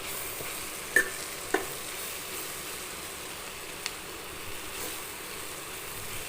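Onions and gravy base sauté in a pan with a steady soft sizzle, broken by a few sharp spatula taps and scrapes as they are stirred, close and continuous without talking.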